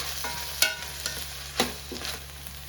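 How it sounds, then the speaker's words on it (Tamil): Masala for chicken kuzhambu sautéing in a pan: a steady sizzle broken by a few sharp spoon scrapes and stirs, close and fairly loud, with no voices. "நல்லா வதங்கியிருக்கு, ஆனால் இன்னும் வதங்கணும்."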